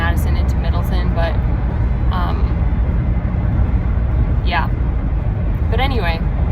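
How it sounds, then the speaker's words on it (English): A car driving on a highway near Madison and Middleton produces a loud, steady road rumble throughout, with brief bits of voice rising over it. "I just realized that the car noises might be like super loud"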